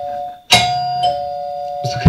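A doorbell on a comedy stage rings with a steady electronic tone, broken by sharp bursts of noise and laughter-like activity, close and loud.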